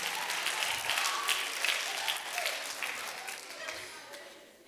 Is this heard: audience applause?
yes